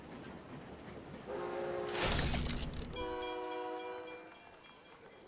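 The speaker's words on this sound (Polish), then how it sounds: "Jest pociąg." A train pulls in within the video game SteamWorld Build, a sustained horn-like whistle swelling in over a bright hissing burst, then steady tonal blasts that fade out over a few seconds with no talk.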